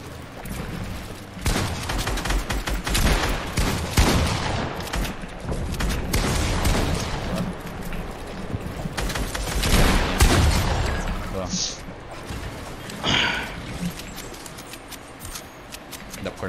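Gunfire in a battle royale video game match: repeated loud bursts of shots and blasts in clusters across the clip, mixed with game ambience and players talking over it.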